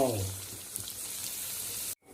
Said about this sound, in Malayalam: അപ്പോൾ ചട്ടിയൊക്കെ വെച്ച് എണ്ണ നല്ല ചൂടായി നമ്മൾ ഇട്ടെടുക്കാം